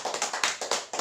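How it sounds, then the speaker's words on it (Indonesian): Audience applause after a group game at a training session: a short burst of rhythmic, fairly close hand claps in a steady beat, with no talk. "Mari kita memberikan tepuk tangan"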